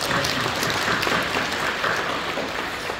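A congregation claps during a New Year prayer service at a Korean church, the applause a continuous, moderately loud patter without pauses and no speech heard over it.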